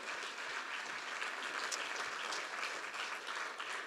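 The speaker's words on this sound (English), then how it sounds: "a big round of applause to all of you as well for these results" Steady audience applause fills a conference hall after results are presented, a dense continuous clapping at moderate distance with no speech over it.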